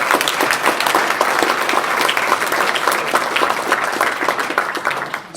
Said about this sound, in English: How about a round of applause for Luke?